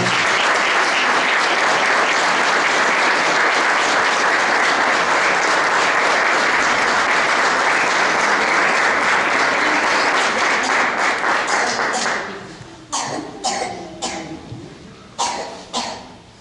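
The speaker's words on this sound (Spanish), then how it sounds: "Fuerte el aplauso para ellos." Audience applause from students and attendees at a school flag loyalty ceremony in Zapala, sustained loud clapping for about twelve seconds that then breaks into scattered claps and coughs as it fades.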